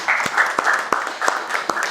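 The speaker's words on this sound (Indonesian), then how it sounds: "Beri tepuk tangan" A brief, thin round of clapping from a small group of students in a classroom, irregular claps at moderate volume.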